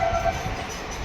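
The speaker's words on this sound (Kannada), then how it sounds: "ಎಷ್ಟು ಫಾಸ್ಟ್ ಉಂಟತ್ ನೋಡಿ ಟ್ರೈನ್" A fast-moving train gives a brief, loud, steady low rumble of wheels and carriage noise, heard from close by without talk.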